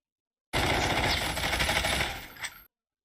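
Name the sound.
gunfire in video game Call of Duty Mobile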